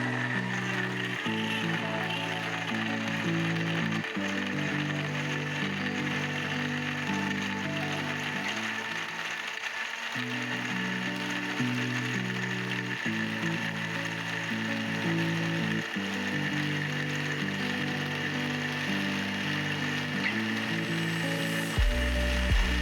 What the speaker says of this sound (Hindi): अब इसको अच्छी तरह ब्लेंड करें।